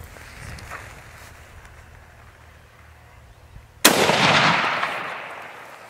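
A single loud rifle shot at a stag during a Monteria hunt cracks out abruptly after quiet outdoor ambience, its broad blast trailing off into a long rolling echo across the countryside.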